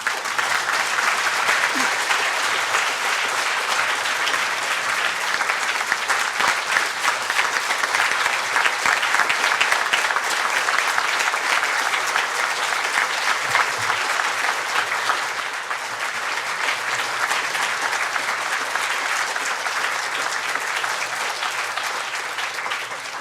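A large audience breaks into sustained, loud applause as Grand Chief Stewart Philip is welcomed to the podium. The dense, even clapping fills the whole stretch and dips only slightly near the end.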